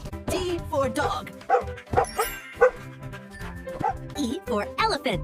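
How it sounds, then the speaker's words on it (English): A cartoon dog yips and barks in short bursts under a cheerful children's alphabet song, with a singing voice and music running throughout. "D for dog."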